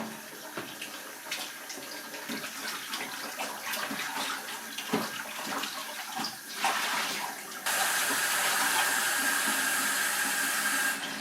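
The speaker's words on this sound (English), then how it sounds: "we're going to just rinse it in some cold water" Cold running water splashes steadily over a tanned fish hide, with irregular sloshing and handling for several seconds, then a louder, even hiss of flowing water, close and without voices.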